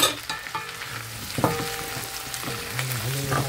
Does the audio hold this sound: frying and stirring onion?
yes